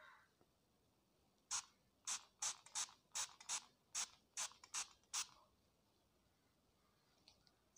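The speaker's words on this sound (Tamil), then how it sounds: "ஸ்ப்ரே பாட்டிலில் வந்து நான் லைட்டாக கொஞ்சோண்டு வாட்டர் எடுத்துக்கிறேன்" Spray bottle misting water over a matte liquid lipstick swatch, about ten sharp, quick spritzes in an even rhythm, close and crisp against a quiet background.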